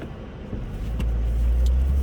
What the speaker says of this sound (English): you just tap the gas, it just goes